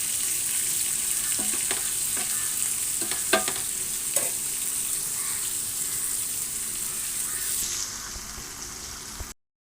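Fish pieces frying in oil in a pan, a steady bright sizzle with a few sharp clinks and scrapes as pieces are turned, close and continuous before the sizzle drops and stops.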